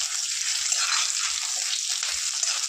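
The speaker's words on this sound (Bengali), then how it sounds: "প্রথমে আলুটা আমি ভেজে নিচ্ছি" Potatoes sizzle steadily in hot oil in a pan, a dense, close, continuous hissing crackle with no pauses.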